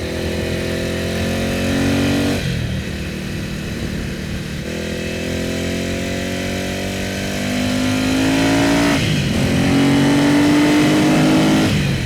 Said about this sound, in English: a truly well sorted Mike Hailwood replica that you can enjoy instantly, like I'm doing here